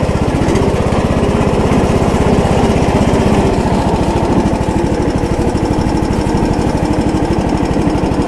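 A John Deere engine runs steadily while driving, a loud, close, rapid chugging drone that holds constant throughout with no pauses.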